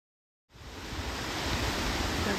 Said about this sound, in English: Douglas Creek Falls.